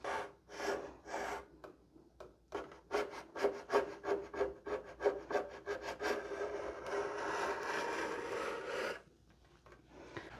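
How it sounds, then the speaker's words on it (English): A scraper works stubborn tape off a mid-century modern wooden headboard in a quick series of rhythmic rasping strokes close by, which then turn into a steadier, continuous scraping before stopping. "So I pulled my little scrapers out. And we'll get that off."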